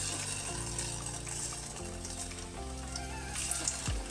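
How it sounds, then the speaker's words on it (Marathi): Semolina gulab jamun frying in hot oil in a wok, a steady close bubbling sizzle with no talk. "मी कढईमध्ये तेल टाकलेलं आहे आणि आता आपण ना एक एक गुलाबजामुन ह्याच्यामध्ये तळून घेऊयात"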